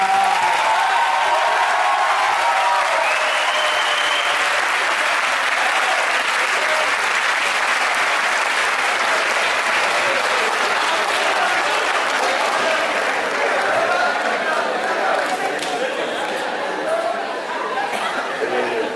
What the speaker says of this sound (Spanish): un fuerte aplauso para Humberto y para Jacobo